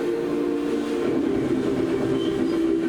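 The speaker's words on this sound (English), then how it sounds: "Just in time, escaped it by train." A train from the Syberia video game rumbles steadily with a sustained droning hum and faint rolling clatter, loud and continuous with no voices.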